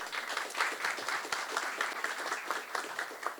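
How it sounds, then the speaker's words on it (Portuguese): Steady audience applause fills a panel session on corporate and startup innovation as panelists are welcomed; dense, even clapping from a sizable crowd runs throughout, close and sustained. "Uma salva de palmas."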